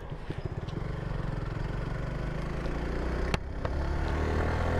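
A Suzuki Gixxer Monotone motorcycle rides with its exhaust silencer giving a steady, close engine drone that rises in pitch as it pulls away, with no talk.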